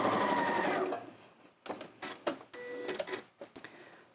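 An Elna 78 sewing machine stitches a rolled hem in fabric, a steady mechanical whir at first, then shorter runs of stitching broken by brief pauses, close and clear.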